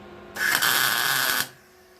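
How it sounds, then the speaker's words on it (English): A single short tack weld on a homemade metal bird feeder, a bright buzzing crackle lasting about a second that starts and cuts off abruptly, close and loud, with no talk. "We're going to put a little tack weld right on there as well."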